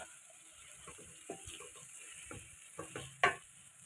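Chickpeas roast in masala in a pan with soft, low sizzling and intermittent scraping stirs, a few sharper clatters near the end, fairly quiet overall.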